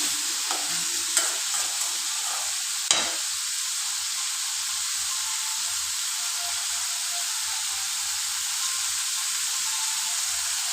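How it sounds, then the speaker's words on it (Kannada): Okra frying in a pan, a steady close sizzle with a couple of sharp spatula clinks early on and no talking. "ಹಂಗಾಗಿ ಚೆನ್ನಾಗಿ ಫ್ರೈ ಮಾಡಬೇಕು"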